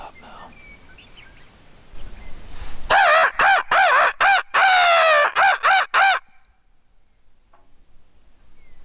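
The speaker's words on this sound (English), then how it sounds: "We just had one gobble." Wild turkey gobbling in a Montana drainage on public land, a loud rapid series of rattling gobble notes lasting a few seconds over quiet outdoor background, then fading to near silence.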